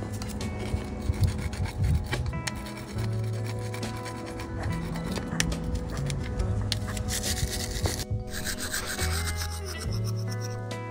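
A rear brake hub surface on a 2015 Volvo XC90 is cleaned with a continuous, close, harsh rubbing and rasping scrape in repeated strokes, with no talking.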